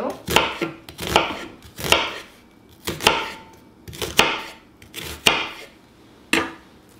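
Sharp knife chopping through an onion on a cutting board, about nine crisp, evenly paced knocks over several seconds, close and clear with no talking.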